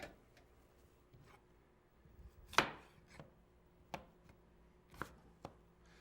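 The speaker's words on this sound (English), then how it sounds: "we're going to just cut those potatoes, quarter them, and into the pan they'll go" A knife chops through baking potatoes on a cutting board, quartering them for a roast beef dinner: a handful of sharp, separate thunks at uneven intervals, one louder cut standing out, close and clear with no talk.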